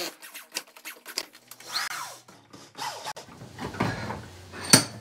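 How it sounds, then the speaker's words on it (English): A cordless power drill drives wood screws into wood for a homemade treestand in a garage, giving short bursts of whirring with quiet gaps, close and fairly faint, ending in a sharp click. "And then you want to sink some wood screws in there."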